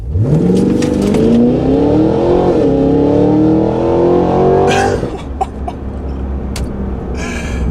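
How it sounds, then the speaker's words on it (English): A 2023 Cadillac Escalade-V SUV launching hard off the line, its loud engine roaring upward through the revs for about five seconds before easing off, with a brief exclamation near the end. "I'm gonna give it a little jump off the line here, and we can see just how beastly this Escalade is"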